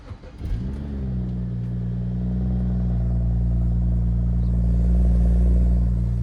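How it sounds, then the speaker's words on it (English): A Jeep Trackhawk fires up from a cold start, a quick cranking burst settling into a loud, deep, steady idle rumble that holds close and constant. "let's do a cold start."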